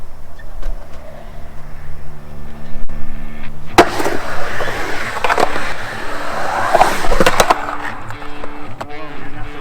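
An Ace AF1-equipped skateboard makes a run in a bowl, with wheels rolling in a steady rumble broken by sharp clacks and a burst of louder grinding and scraping midway, close and loud.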